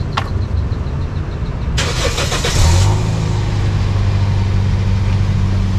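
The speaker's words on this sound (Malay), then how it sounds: "Kita try start engine. Tengok running engine ada jacking ke tidak." A Toyota Vios NCP93 with a faulty ignition coil cranks for about a second, catches on the first try and settles into a steady, close, low idle with no talking.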